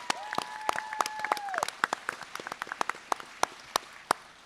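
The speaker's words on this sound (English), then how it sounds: "Big round of applause for those guys." A convention crowd at a firearms-creator Q&A panel gives scattered, uneven applause, individual claps ringing out distinctly at moderate distance, with a brief tonal whistle-like sound early on and faint voices in the background.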